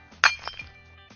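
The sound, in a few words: rock dropped onto a glass bottle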